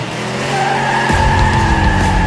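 A toy race car speeds along a homemade track set up in a kitchen, giving a loud, continuous whirring motor whine with a squealing rise partway through, close and alone.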